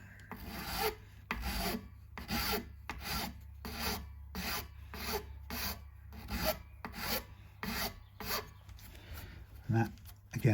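Repeated rasping strokes as an edge on a Strat-style guitar is rolled over to soften it, steady rhythmic rubs close up, about a dozen passes with brief gaps between them.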